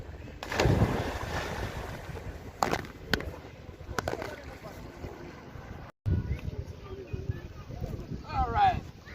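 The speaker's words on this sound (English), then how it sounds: "Watch out, there's lots of boats." Boats moving on Lake Ohrid, heard as a steady outdoor rumble of engine and water noise mixed with wind buffeting the microphone, with a brief dropout partway through.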